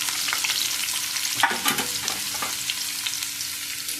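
Food fries over a stove flame for matar paneer masala, a steady close sizzle broken by scraping, clattering stirs, with no talking.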